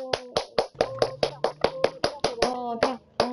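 Children clap in a loose rhythmic pattern, around a dozen distinct sharp hand claps spaced fairly evenly, close and crisp, with faint tonal voices or music threading between them.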